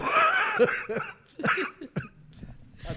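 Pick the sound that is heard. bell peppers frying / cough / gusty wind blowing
cough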